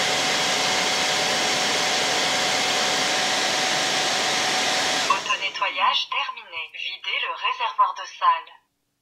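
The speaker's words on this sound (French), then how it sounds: "la brosse roulante, là maintenant, est en train de se nettoyer de toutes les impuretés." An EZVIZ RH1 wet-dry stick vacuum runs its roller brush self-cleaning cycle, a loud steady whirring hiss for about five seconds that stops abruptly, followed by a voice speaking.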